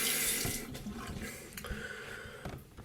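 Tap water running into a sink while a shaving brush is rinsed under it, a close steady splashing rush that shifts with brief gurgles and drips.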